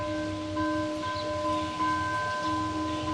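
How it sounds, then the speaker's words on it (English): Monastery bells ringing at moderate distance, sustained tones with overlapping strikes and long decay, a calm, quiet setting with no voices. "I hear the bells. I don't hear my SoundCloud playlist. I hear the bells."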